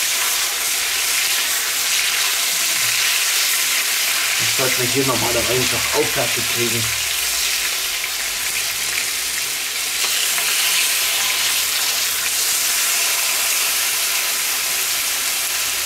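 Steady sizzling of crumbled meat frying in a pan over a wood fire fills the background, with someone speaking briefly in German partway through.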